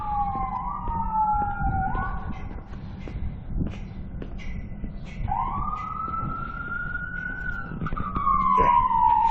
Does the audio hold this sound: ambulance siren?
yes